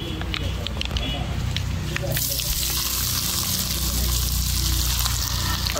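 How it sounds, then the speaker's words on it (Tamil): Mustard seeds and urad dal sizzle in hot oil while tempering for a turkey berry chutney. A steady crackle swells into a bright, hissing fry partway through, with someone talking over the cooking. "நான் கடுகு சேர்த்துக்கலாம், கடுகு உளுந்து தாளிக்கிறதுக்கு."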